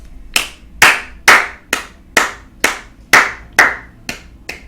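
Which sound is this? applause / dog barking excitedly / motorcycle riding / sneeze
applause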